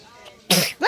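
A single sharp sneeze bursts out near the microphone after a moment of quiet, followed by a short vocal sound.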